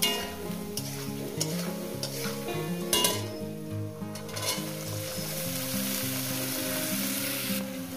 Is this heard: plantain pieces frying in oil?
yes